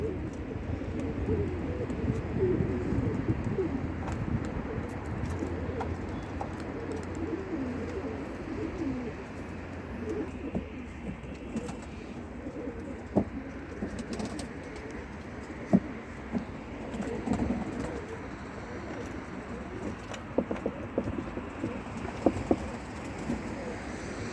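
Soft cooing from Mardin tumbler pigeons rises and falls over a steady outdoor murmur, with faint wind and occasional light knocks nearby.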